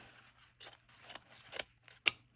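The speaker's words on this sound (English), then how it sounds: "I find it's easier to cut if I separate the patches." Scissors snip through iron-on embroidered patches on a denim jacket: several crisp cuts close by, quiet at first, then sharper, ending in one loud snip, with no talking.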